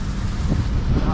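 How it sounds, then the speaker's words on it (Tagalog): Strong wind buffets the microphone in a continuous loud roar, with low rumbling gusts and no clear pauses. "Lakas ng hangin."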